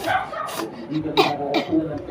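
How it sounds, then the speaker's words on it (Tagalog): A few short, harsh coughs break out in quick succession, close by, with throat noise between them. "May ubo din ako"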